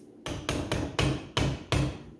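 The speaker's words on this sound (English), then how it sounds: "Slide a third wedge in there." A nylon wedge is hammered between turbocharger casings during a CT15b twin-turbo rebuild, with about six sharp, close, evenly spaced blows in quick succession and no talk.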